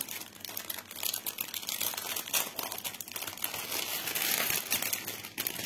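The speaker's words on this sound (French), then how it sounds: "Allez, je déballe. Une grande pochette." A large plastic pouch from a stamped cross-stitch kit is unwrapped close by, with continuous crinkling and crumpling rustles that rise and fall in bursts, and no speech.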